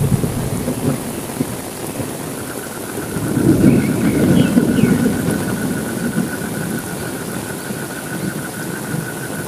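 Rain and thunder at night: steady heavy rain pours on a surface while low thunder rumbles and swells midway, continuous and fairly loud, with no voices.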